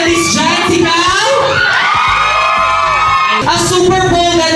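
A loud crowd of fans shouts and cheers at a drag show event, with high whoops and yells blending into a dense roar.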